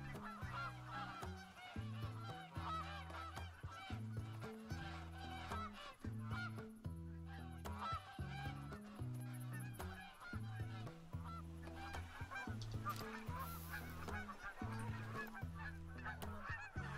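Canada geese honk repeatedly in the game Call of the Wild, a steady overlapping flock chorus that runs loud and unbroken throughout, with no speech.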